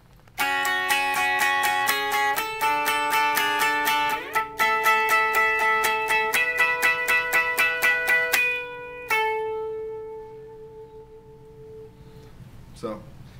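A clean electric guitar with no overdrive or delay plays a melodic line on the top two strings, close and clear with distinct plucked notes and rhythmic strums, ending on a long ringing note that fades out.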